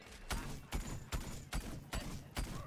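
Gunfire in a shooting video game: six sharp shots in an even rhythm about every half second, fairly faint and with nothing else over them.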